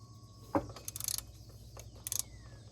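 Several ratcheting clicks and short metallic clatters come from a wrench loosening 13 mm bolts through the holes in a GM Trailblazer power steering pump pulley, fairly faint, with a sharp knock near the start and quiet gaps between bursts.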